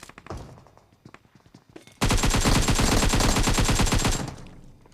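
Gunfire in the PUBG Mobile video game: a few scattered shots at first, then a sustained rapid burst of automatic fire lasting about two seconds before fading.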